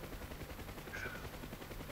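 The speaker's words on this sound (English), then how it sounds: "that's a big explosion" A big explosion in a combat flight simulator game over the Saipan invasion, heard as a loud, continuous rumbling roar with crackling bursts, steady for the whole stretch without speech.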